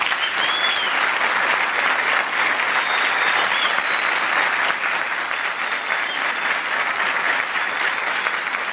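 Sustained applause from a university lecture audience fills the room, dense and steady throughout with no speech over it.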